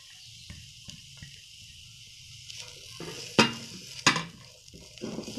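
Finely chopped onion fries in a pan for an omelette, with a low sizzle underneath and a few sharp metal clinks of a spoon stirring against the pan.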